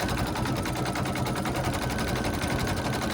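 A sewing machine quilts a table runner, its needle hammering in a fast, even, loud mechanical rhythm that runs without pause up close.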